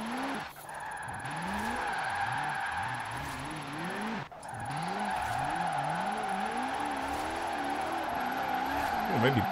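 A 270 mph one-gear hypercar drifts in Forza Horizon 4, its engine note wavering up and down in rhythmic swells while tires squeal through long slides, a steady close-up roar with one brief dropout midway.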